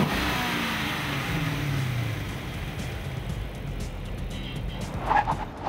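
A 2005 Dodge Charger SRT8's Hemi V8 engine rumbles steadily as it drives along, with a low, throaty tone and a brief rise near the end.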